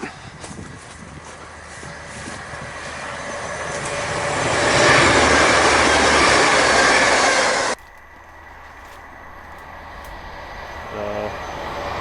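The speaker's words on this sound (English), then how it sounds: "Here's a train." Class 158 TransPennine Express diesel train passing near the old Hull & Barnsley Railway line, a rising roar that peaks and cuts off abruptly, then a quieter rumble with a short faint horn-like tone.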